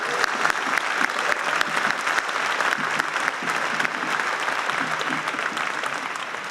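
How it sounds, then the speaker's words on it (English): Sustained applause from a conference audience, dense and steady throughout with no voices breaking through. "Let's give her another round of applause."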